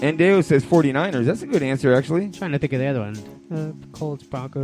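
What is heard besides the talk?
None of the usual background noises is heard.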